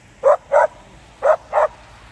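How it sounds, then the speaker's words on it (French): Dog barking nearby, four sharp barks in two quick pairs separated by a short pause, loud and clear over a quiet background. "il y a un chien devant"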